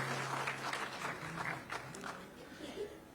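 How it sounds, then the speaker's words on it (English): Applause from an audience honouring sitar, shehnai and tabla musicians, a fairly close wash of clapping with some distinct individual claps, a low hum beneath and talk mixed in. "So let's give a huge round of applause."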